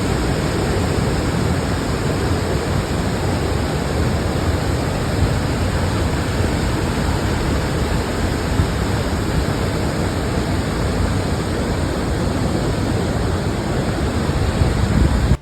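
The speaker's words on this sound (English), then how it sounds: "I could go over and over and over about how beautiful and majestic this waterfall is" Bomana Waterfall in Cameroon, a big waterfall roaring as a loud, steady broadband rush with no pauses, heard up close and alone.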